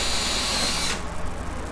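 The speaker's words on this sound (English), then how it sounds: "he's going to pilot drill the hole just through the panel" A power drill bores a pilot hole through a rock column panel, a loud high whine lasting about a second before cutting off into lower rattling.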